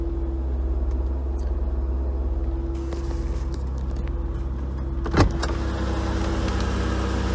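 Mercedes W124 engine cooling fan running at high speed, a steady whirring hum over the idling engine, close and constant, with one brief click partway through.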